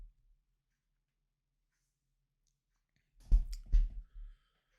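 A couple of sharp computer mouse clicks while merging photos into a panorama in Photoshop, two close transients followed by a softer third, alone in near silence.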